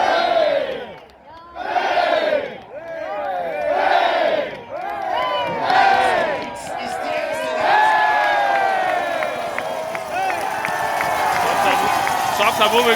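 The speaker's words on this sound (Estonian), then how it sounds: "Saksa publik oli õnnelik" German spectators at the Anterselva biathlon World Cup cheering and shouting in loud rhythmic surges, a dense crowd roar that swells and dips several times, then settles into steady loud cheering with whistles and voices throughout.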